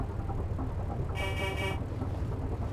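A Gauss Warthog in Halo 3: ODST drives along a coastal highway, its engine giving a steady low rumble. About halfway through, a bright tonal burst that resembles a horn blares briefly over it.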